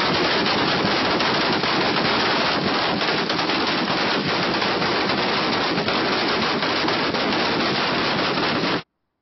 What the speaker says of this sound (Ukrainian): По всьому периметру площі стояли озброєні бойовики і стріляли в повітря